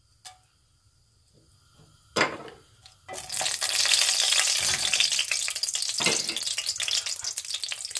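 Dried red chilies drop into hot oil over medium heat and burst into a loud, steady frying hiss that continues without a break after a couple of brief clatters.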